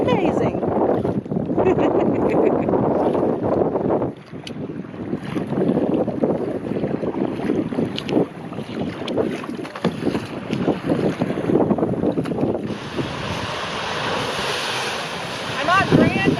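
Waves and wind on Lake Superior around a paddler in open water, a loud, rough, continuous wash and splash buffeting the microphone, with no clear pause throughout.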